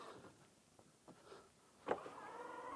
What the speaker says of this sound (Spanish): vamos a ver qué tal abre el portón